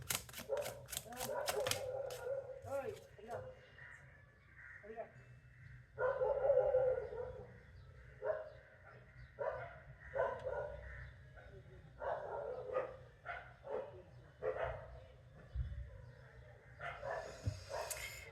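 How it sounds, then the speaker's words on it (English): Dogs bark in short, repeated bursts somewhere in the background during a tarot card reading, fairly faint and irregular, mixed with card shuffling and clicking sounds. "With the dogs barking in the background over here"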